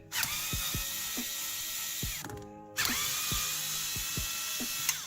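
A tool ratchets and whirs as screws come out of a car infotainment panel during a Tesla-style screen install, with short bursts of clicking and spinning, a brief pause and a second run, close up.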